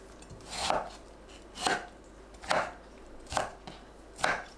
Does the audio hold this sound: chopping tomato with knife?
yes